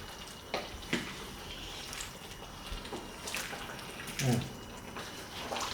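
A spoon stirs a thick Cantonese beef and potato stew in a pot, giving soft wet sloshing and a few scattered scrapes and knocks over a quiet background, with no one talking.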